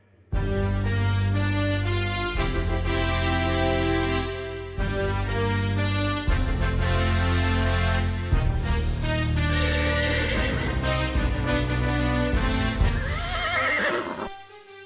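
An Arabian horse neighs and whinnies loudly and steadily under continuous music, with a hint of hoof clip-clop, in a dramatized royal court setting.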